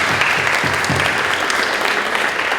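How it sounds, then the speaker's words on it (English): An audience claps at a National Junior Honor Society induction ceremony, a loud, sustained round of many hands filling the room evenly from start to finish. "At this time, let's go to a round of applause."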